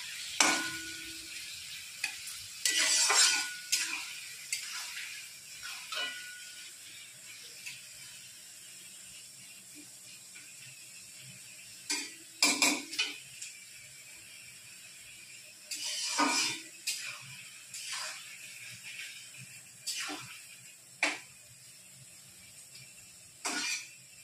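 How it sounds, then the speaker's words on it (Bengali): Sliced onions frying in a pan while a spatula stirs them for a chicken kanti dish, with irregular scraping bursts over a low steady sizzle and quieter pauses between, close and moderately loud, no voices. "পেঁয়াজটা আমি হালকা করে লাল লাল করে পেঁয়াজটা ভেজে নেব।"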